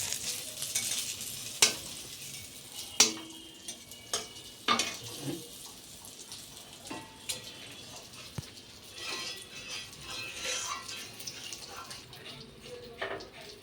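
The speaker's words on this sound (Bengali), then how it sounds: "তার জন্য বেগুনটা ভাজতে দিয়েছি" Eggplant fries in a pan with a quiet, continuous sizzle, broken by irregular utensil clinks and scrapes. Faint voices sound in the background.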